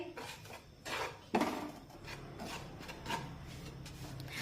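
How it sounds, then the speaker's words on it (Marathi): Flour being stirred and roasted on low heat in a pan for banana barfi, heard as quiet, irregular scraping and rubbing strokes of a spatula with one sharper scrape partway through and no talking. "मंदाच्यावर हे पीठ हलकंसं गुलाबी रंगावर परतून घेऊया एकसारखं याला असं हलवून घेऊया"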